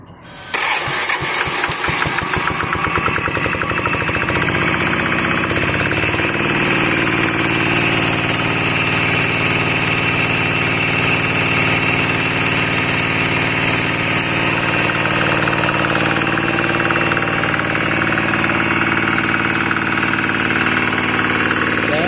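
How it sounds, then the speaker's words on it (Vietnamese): A used Kubota RK70 3 kW generator engine cranks and fires up within the first couple of seconds, then settles into a loud, steady idle that drones on close by with no talk over it. "đây là cái nút đề nè, để em đề thử cái nổ cho anh em xem nghe nè"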